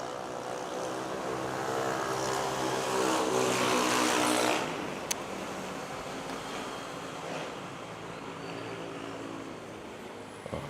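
A jet airliner taxiing toward runway 06 at Manila Airport, bound for Cebu, gives a steady broadband engine roar that swells over the first few seconds and then eases back to a continuous hum, heard alone without talk.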